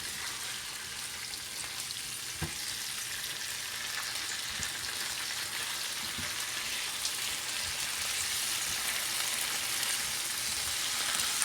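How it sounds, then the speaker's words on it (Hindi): Okra frying in a pan with ginger garlic paste for bhindi masala, a steady close sizzle with a few soft stirring knocks, no talking. "देखिए फ्राई हो रही हैं।"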